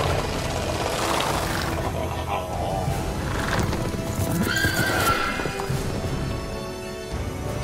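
Roach, the horse in The Witcher 3 video game, neighs and whinnies over steady clip-clopping hoofbeats, loud and close, with the whinny rising clearly near the middle.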